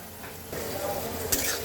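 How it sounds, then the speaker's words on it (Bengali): Onion frying in a pan with turmeric and coriander powder, a close sizzle that jumps louder partway through as the spoon stirs, with a brief metallic clink near the end. "পেঁয়াজটাকে আমি লাল লাল করে ভেজে নেব"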